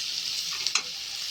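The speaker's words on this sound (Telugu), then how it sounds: "కొంచెం లేతగా ఫ్రై చేసుకోండి, ఎక్కువ వేసుకోవద్దండి, మళ్ళీ మాడిపోతాయి అన్నమాట." Ingredients are fried lightly in hot oil for a potato and banana fry. A continuous close sizzle plays throughout, broken by one brief scrape of stirring.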